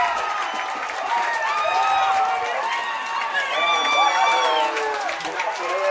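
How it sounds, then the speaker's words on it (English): A football crowd on the Bellarmine sideline roars and whoops continuously, a dense, loud wash of cheering voices throughout. "The crowd goes crazy on the Bellarmine sideline."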